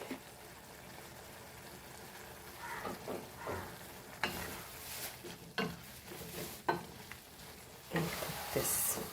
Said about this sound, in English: We'll add our chilies in this.